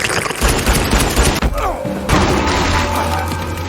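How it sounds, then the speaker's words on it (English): A gunshot blast aimed at a giant centipede monster in a film erupts amid a dense, loud action soundtrack of booms, crashes and music. "Fortunately, Levi had a gun"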